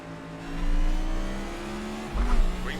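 A NASCAR Cup Series car in iRacing racing at full throttle, its engine droning in a steady loud tone that shifts pitch as it lifts and pulls again, with other cars close by.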